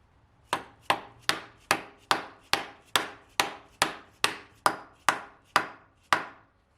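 A mallet or dead blow hammer taps a PMC adapter into a crankshaft during a 1JZ to BMW M3 ZF swap. About thirteen sharp, evenly spaced knocks ring out close by, with no talking.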